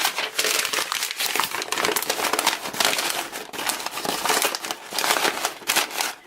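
Sheets of white paper are crumpled and ruffled over newspaper, producing dense, continuous crackling and crinkling close by, loud and busy throughout with brief dips.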